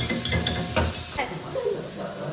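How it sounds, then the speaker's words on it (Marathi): Pots and utensils being scrubbed and washed by hand during a Goa trip, a brief burst of close, busy clattering and scraping that eases off into softer handling noises. "आमचे हे भांडी घासताना"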